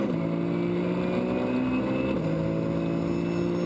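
Porsche 996 GT3 Cup race cars at Spa, engines screaming at high revs in a steady, loud racing whine with a gear-shift pitch drop partway through.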